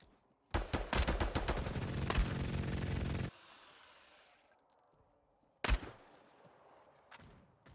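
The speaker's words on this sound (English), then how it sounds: "they got the chain gun." A chain gun in the game VTM Bloodhunt fires a loud, rapid, continuous stream of shots for nearly three seconds, stops abruptly, and is followed a few seconds later by another sharp blast and a brief rattle.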